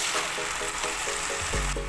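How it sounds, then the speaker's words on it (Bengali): Continuous crackling sizzle of onions frying in a pan with turmeric and salt, close and steady, with a few scraping stirs and a louder burst near the end. "হলুদ আর লবণ দিয়ে পেঁয়াজগুলো ভাজা ভাজা করে নিলাম"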